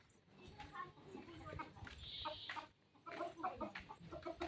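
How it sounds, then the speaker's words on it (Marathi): Hens clucking nearby in a rural farm setting, soft irregular clucks mixed with people talking over them at a low overall level. "काय ग कोंबड्यांनो?"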